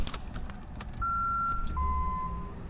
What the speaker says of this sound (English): I put the key in the ignition